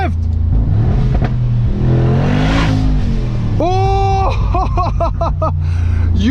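A Brabus G900 engine roars loudly as it accelerates, then drops through downshifts with rising and falling harmonic bursts and rapid pops, a voice exclaiming briefly over the din.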